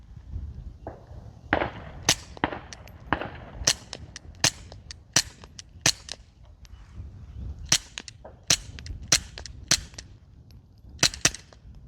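A Taurus TX22 .22 pistol firing at an outdoor range, about twenty sharp, fairly quiet cracks in a steady string of close shots with brief pauses between some of them.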